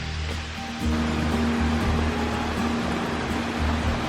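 A constant, full rushing roar of a waterfall on Dartmoor, England, fills the air, steady and dense with a deep low rumble underneath.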